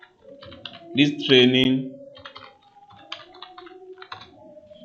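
A computer keyboard clatters in quick, irregular bursts as someone enters a multiple-choice question into an online form, the key clicks running beneath a person talking nearby.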